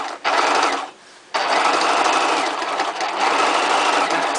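A sewing machine stitches along the edge of a fabric bag, a loud, fast, buzzing mechanical run that stops briefly for about half a second before starting again and running steadily.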